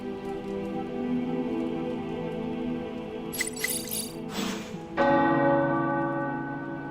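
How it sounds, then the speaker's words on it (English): Tower bells ring out in Marvel's Midnight Suns, a clear sustained peal of overlapping tolls with bright strikes layered over a steady resonant hum, loud and alone without talk. "The tower bells are ringing."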